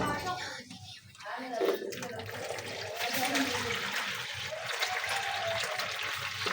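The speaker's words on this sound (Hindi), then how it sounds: "अभी फ्रेश वाटर ऐड करेंगे" Fresh drinking water pours into a pressure cooker holding a little over half a kilo of lentils, a steady gushing splash that builds and fills the room, with a voice briefly heard near the start.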